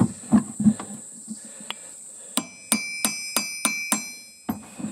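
Hammer tapping a piece of drum metal down on an anvil or hard surface, a series of sharp, ringing metallic taps, a few soft at first and then louder, close and alone without talk.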